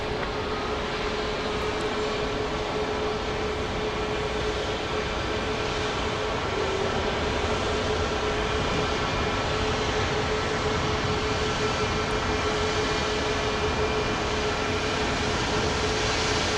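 A Southwest airliner takes off from Dallas Love Field at night, a loud steady jet roar with a constant engine whine, heard at close range without a break throughout.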